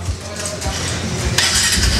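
Used motorcycle engine cranking and running, a rough mid-pitched rumble that steadies into idle, with a brighter burst of revving noise toward the end; people talk over the engine.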